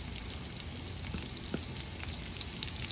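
Chopped onion frying in a hot pan, a quiet, steady crackling sizzle with scattered small pops, heard close with no talking.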